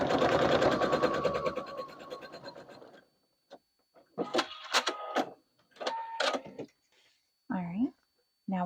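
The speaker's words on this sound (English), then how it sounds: "Don't forget to adjust the length of your stitches since you are stitching over vinyl on this part" A sewing machine stitches over vinyl in one loud, fast buzzing run that fades out after a few seconds, followed by a spoken voice in short phrases.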